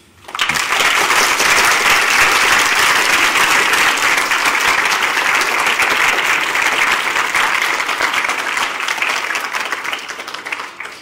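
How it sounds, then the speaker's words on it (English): A lecture audience at a mathematics talk claps in sustained, dense applause that starts abruptly, holds steady for about ten seconds and then tapers off near the end. "let's give him another big round of applause for the great exercise"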